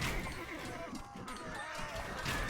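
Bombard cannon fire in an Age of Empires II tournament match, a dense clattering battle din of crashes and impacts with caster commentary running over it throughout.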